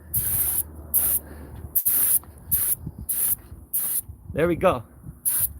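Spray gun laying down a light coat in a series of short, sharp hissing bursts with pauses between them, close and loud, while someone speaks briefly between passes.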